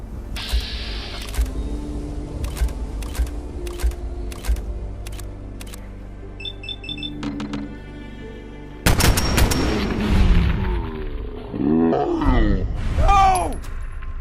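Gunshots in Fallout 4 ring out as a series of sharp, evenly spaced cracks, followed by a tense pause and then a loud burst with grunts and strained voices.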